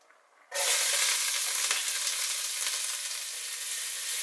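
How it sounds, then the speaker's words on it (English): Onions hitting a couple of tablespoons of hot olive oil in a saucepan burst into a loud, sudden sizzle after a short quiet moment, then hold a steady, bright hiss without talk. "into a hot saucepan you want a couple of tablespoons of olive oil, and straight into that with your onions"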